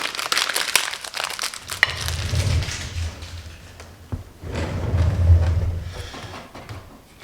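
Adhesive grip tape crinkles and crackles as it is wrapped around the grip of a Cheyenne Hawk pen tattoo machine, with a few light taps and thumps and a low hum underneath, close and continuous.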